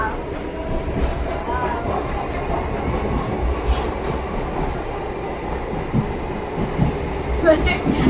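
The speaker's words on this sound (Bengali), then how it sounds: "বেলা দেখে লাস্ট ট্রেনে বাড়ি যাচ্ছি" An empty late-night passenger train heading home from a fair rumbles continuously from inside the carriage, with rhythmic wheel clatter and faint voices in the background.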